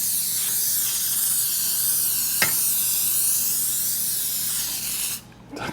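Cooking spray hisses in a steady continuous jet as a cake pan is greased for a vegan cake, loud and close for about five seconds with a brief click partway through, then cutting off near the end.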